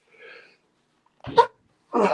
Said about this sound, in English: Remember that sneeze I just did?